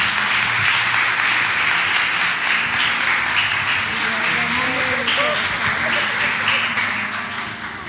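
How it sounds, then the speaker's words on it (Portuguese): A crowd claps steadily in a reverberant church hall, sustained applause with a few voices and faint music underneath, tapering slightly at the end. "Você pode aplaudir mais uma vez, igreja?"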